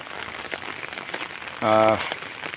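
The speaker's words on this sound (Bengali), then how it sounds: "বৃষ্টির আনন্দ নিন, বৃষ্টি উপভোগ করুন।" Rain falls steadily with an even, close hiss throughout, broken by a brief tonal hum about midway.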